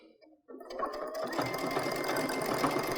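After a brief quiet moment, a sewing machine starts stitching around patchwork stockings and settles into a steady, close, loud mechanical whir that runs without pause.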